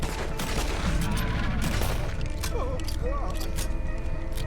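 Pistol fire in a video game, rapid cracking shots layered with busy game effects and a dense, loud background while a voice talks.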